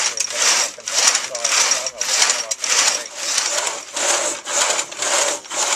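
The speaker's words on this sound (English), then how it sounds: "Nora sharpened the blade for this saw, and it's cutting really well" An antique human-powered drag saw, patented around 1902, cuts through wood with a freshly sharpened blade: rhythmic, rasping back-and-forth strokes about twice a second, close and steady.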